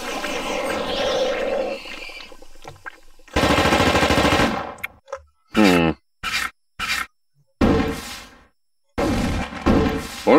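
Turret gunfire in The Thing video game, loud rapid machine-gun bursts close by, a long stretch of fire followed by several short choppy bursts separated by abrupt silences.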